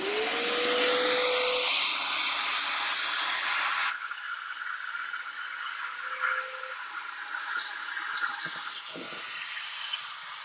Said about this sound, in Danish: der har jeg jo min støvsuger med en sok på